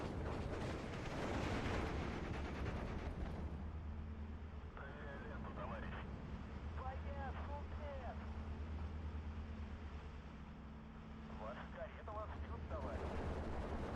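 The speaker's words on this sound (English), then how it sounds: "These are already being hit by all the artillery." Artillery fire in the WWII strategy game Steel Division 2 sounds as heavy booms and rumbling blasts, loudest early and then a continuous distant barrage with bursts of gunfire.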